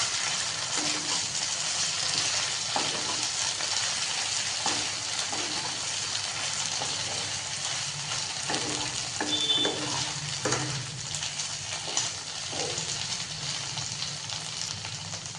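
Ridge gourd and potatoes fry in a pan with poppy seeds, giving a steady close sizzle for the whole stretch, and a spoon scrapes and taps now and then as everything is mixed together.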